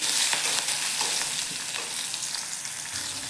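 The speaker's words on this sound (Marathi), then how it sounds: "आता याच्यात आपण मिरची, लसूण आणि जिरे बघा थोडंसं परतून घेणार आहे।" Chilli, garlic and cumin sauté in a hot pan with a steady, close crackling sizzle and faint stirring, no voices.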